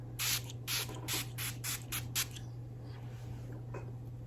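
Makeup setting spray is pumped from a bottle in a quick series of about seven short, crisp mists, close and fairly loud, followed by quiet room hum.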